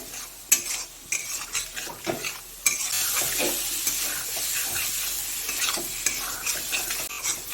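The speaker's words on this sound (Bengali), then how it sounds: "যতক্ষণ না মশলা দিয়ে কাঁচা গন্ধটা চলে গেছে ততক্ষণ মশলাটাকে একটু ভালো করে কষিয়ে নেব" Spice masala for a phasa fish curry stirred and fried in a pan, a steady sizzle broken by repeated scraping strokes of a spoon against the metal, close and fairly quiet with no talk.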